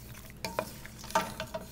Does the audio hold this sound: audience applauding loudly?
no